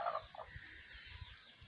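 A turkey hen gobbles briefly and quietly, a short warbling call followed by faint low background noise, on a village street in Ukraine.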